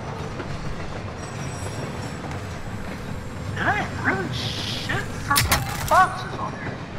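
A train passes in Call of Duty: Modern Warfare, rumbling with clickety-clack wheel rhythm and occasional squeals and sharp cracks. Voices talk over it partway through.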